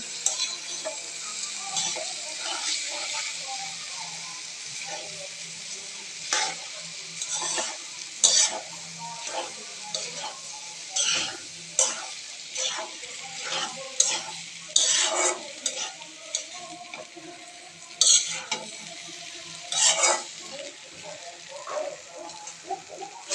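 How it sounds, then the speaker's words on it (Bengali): Noodles with tomato being stirred and fried in a pan, with a steady sizzle under repeated scraping and clinking stirs of a utensil against the pan, loud and close throughout. "দিয়ে দিচ্ছে টমেটো, দিয়ে সুন্দর করে নাড়াচাড়া করে নিচ্ছে"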